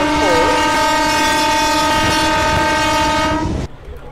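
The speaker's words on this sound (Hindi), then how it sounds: "यहाँ से हॉर्न बजा के हम लोग डिपार्ट करेंगे" Horn of a Medha EMU local train on the Durgapur–Asansol line in Eastern Railways, blasting one long, loud, steady multi-tone chord for about three and a half seconds at departure before cutting off abruptly over a low rumble.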